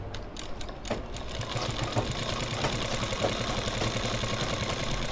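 A sewing machine stitches a kurti, running steadily with a fast, even mechanical chatter and low motor hum, close and continuous for about five seconds with no talking.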